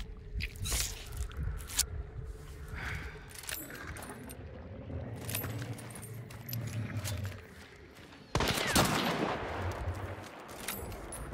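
Rapid gunshots from a first-person shooter video game, a few sharp bursts and a sustained crackling volley near the end, loud and close with no talk over them.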